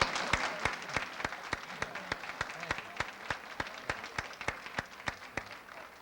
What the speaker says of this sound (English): won't you give a warm hand of applause?